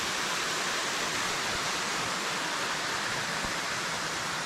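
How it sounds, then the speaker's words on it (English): The first cascade on Long Creek, a waterfall giving off a loud, continuous broadband rush of falling water, close by and unbroken, with no voices. "This is the first cascade on Long Creek"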